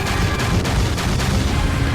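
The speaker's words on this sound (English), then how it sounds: "The roar of the gunfire fills my ears and the muzzle flashes burn away the crimson mist." Dense, continuous roar of full-auto gunfire from the giant mech Cthulhu in the Demonbane video game, loud and sustained with faint rhythmic pulses in the barrage.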